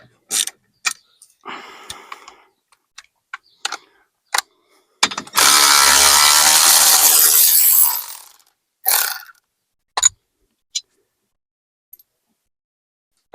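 Ratchet wrench turning out the steering rack bolts on an EZGO TXT golf cart, heard as quick bursts of close, rapid clicking followed by a long, loud continuous ratcheting spin, then a few more short clicks and scattered metallic taps.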